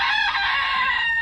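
Backyard chickens kept on a Philippine farm, with rice husk bedding in their pen, give a brief burst of clucking and crowing calls, fairly close and steady with no talk.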